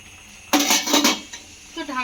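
A metal lid clanks down onto a pan holding five eggs, one sharp clattering hit followed by brief rattling as it settles, then a lighter clink near the end.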